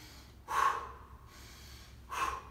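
Two breathing dumps, each a quick, forceful exhale pushed out through the mouth, arrive about one and a half seconds apart, close and soft with quiet pauses between.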